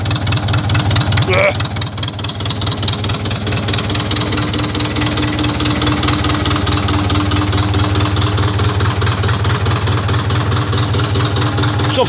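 A loud engine runs with no exhaust pipe fitted, a steady rough idle with a knocking, vibrating drone that continues throughout, close by, while people talk over it.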